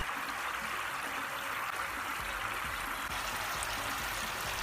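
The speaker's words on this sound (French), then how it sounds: "Toute la crème récupérée, nous la portons à ébullition sur feu moyen. La crème fond, l'eau s'évapore." Coconut cream boils in a pot over medium heat, its water evaporating while homemade coconut oil is made, a steady bubbling hiss with no voices.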